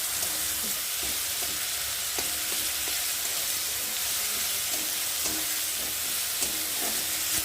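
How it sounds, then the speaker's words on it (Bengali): Steady sizzling of tomatoes frying in a pan, a continuous close hiss with faint stirring clicks scattered throughout. "দেখতে পাচ্ছি টমেটোটা ভেজে গেছে।"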